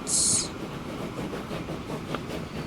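An old, rusty train runs in the Transport Fever rail-management game, a steady low rumble and faint rhythmic rattle that continues throughout after a brief high chime at the start.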